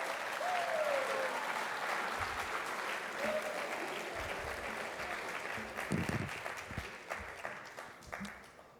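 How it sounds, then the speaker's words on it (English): Students and guests at a high school scholarship assembly applaud in a large room, the dense clapping gradually thinning into scattered individual claps, with a brief shout near the start. "Give a round of applause for the community for doing that for you."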